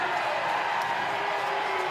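Basketball crowd in a high school gym roaring steadily after a coach is hit with a technical foul late in the fourth quarter, a dense continuous wash of voices with scattered shouts and whoops.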